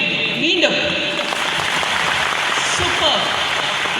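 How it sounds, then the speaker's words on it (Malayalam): An audience at a training program claps in a dense, sustained round of applause, steady and fairly loud throughout the whole stretch, with voices mixed in underneath. "ഒരു വലിയൊരു കൈയടി നിങ്ങൾക്ക് വേണ്ടി."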